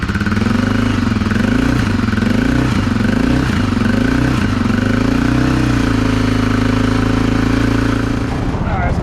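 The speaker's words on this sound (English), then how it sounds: "I'll let this bike warm up and then we'll see if we have any noises." A Honda XR650L single-cylinder motorcycle idles while warming up with the choke slightly on, a loud close steady thumping with gently wavering pitch and light mechanical clatter, fading slightly at the end.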